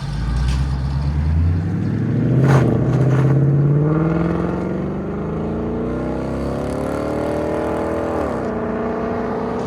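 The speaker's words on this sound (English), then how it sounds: "He's gonna open the valves and he's gonna take off." A 2016 Ford Mustang GT 5.0L V8 with Flowmaster X-Pipe and valved exhaust opened revs up and pulls away, pitch climbing through gears with a throaty, rumbling exhaust that stays strong before easing slightly.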